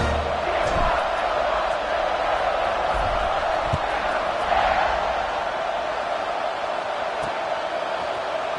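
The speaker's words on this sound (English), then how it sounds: "They're set to kick it off, and this crowd now ready to get behind them." Stadium crowd in the College Football 25 video game keeps up a constant, steady roar before kickoff, with a few faint thumps and brief swells over the sustained din.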